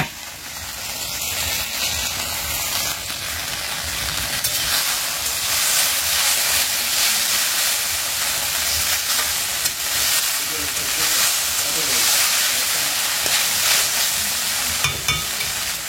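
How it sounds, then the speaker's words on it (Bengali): Okra (bhindi) sizzles loudly in hot oil in a home kitchen pan, a dense, continuous frying hiss with occasional stirring scrapes and no talking. "আবার এদিকে আমি আমার জন্য ভেন্ডি ভাজা করে নিচ্ছি।"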